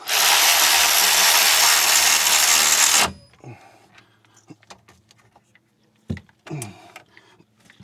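Caliper bolts on a 2017 Mazda 3's crusty brakes are driven in by a loud, steady whirring power tool for about three seconds, followed by quieter scattered metallic clinks, taps and rattles of parts being handled.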